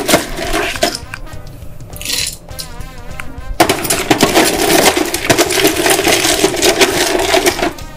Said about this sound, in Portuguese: eu vou completar um pouquinho com gelo aqui em cima para ela pra ficar um copo bem cheio